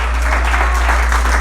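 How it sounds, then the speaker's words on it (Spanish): A church congregation applauds during a Sunday sermon, a short, dense burst of clapping with a heavy low hum beneath it. "¿Alguien le da un aplauso fuerte al Señor?"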